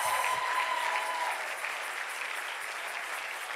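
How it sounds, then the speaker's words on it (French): A church congregation applauds and cheers, a dense, steady wash of clapping that fills the room, with a brief tone fading near the start. "Est-ce que tu peux encore exagérer avec tes acclamations?"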